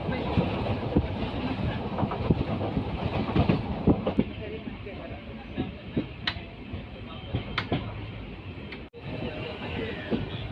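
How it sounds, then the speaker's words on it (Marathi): A passenger train departing Kankavli station rolls along the rails with a continuous rumble and periodic clacks from the wheels. "आता आपली ट्रेन सुटलेली आहे कणकवली स्टेशनवरून"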